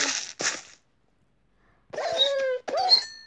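A dog in the Minecraft video game gives two short yelps, then a pause, then two longer whining barks, clear and close with no talking over them.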